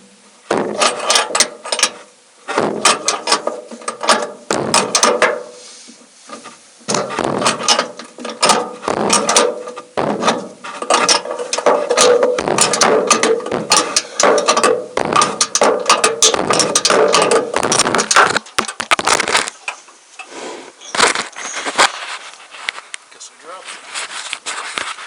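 Ratchet clicking steadily while bed bolts are backed out of a Chevy 1500 pickup truck bed, long runs of rapid pawl ticks with brief pauses, close and loud throughout.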